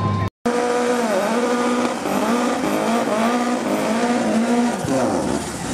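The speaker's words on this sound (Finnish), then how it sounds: "Ja hienoa Burnista hienolla autolla" Drag race car doing a burnout on the strip at Vaasa, a loud sustained roar with squealing tyres and wavering engine pitch after a brief dropout at the start, running almost continuously for several seconds.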